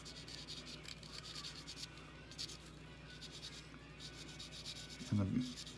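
Pastel pencil dragged on its side across paper, a soft continuous rubbing and scratching texture at close range, ending in a brief louder scrape.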